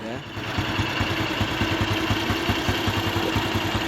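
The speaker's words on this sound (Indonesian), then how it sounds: "Kemudian kita lepas handle gasnya, mesin akan turun secara cepat dan dari arah knalpot ini tidak ada ledakan." Carbureted motorcycle engine settling quickly to a steady idle after the throttle is released, with no backfire from the exhaust; a close, even low putter with regular pulses, and a voice speaks over it.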